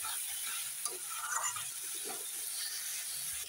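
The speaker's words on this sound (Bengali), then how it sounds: "মশলাটা প্রায় কষানো হয়ে গেছে, আর একটু কষিয়ে নেবো" Spice paste frying with potatoes in oil in a pan, a steady sizzling hiss with occasional stirring scrapes throughout.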